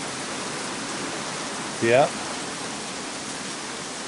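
A downpour hisses steadily and close throughout, with one person briefly speaking over it midway.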